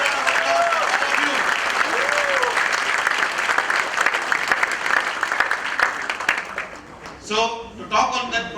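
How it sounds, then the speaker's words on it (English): An audience at a product launch for a cholesterol supplement keeps up loud, continuous applause, with voices speaking over the clapping at the start and again as it tapers off at the end. "Please give a big round of applause for all of you."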